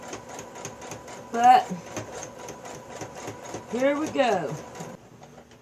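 A home sewing machine stitches quilt pieces for a newspaper quilt with a steady, rapid mechanical clatter throughout, close and clear, while someone talks over it.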